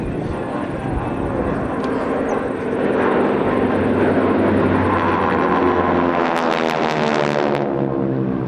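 Aircraft flying in formation at the Tyabb Airshow pass overhead with a steady droning engine roar, rising and shifting in pitch as they go by, while a commentator talks over it.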